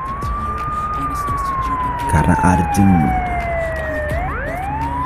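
A siren wails steadily through a bus-driving game, a single long tone sliding slowly downward before a quick rise at the end, loud and continuous, with engine rumble and brief voices in the middle.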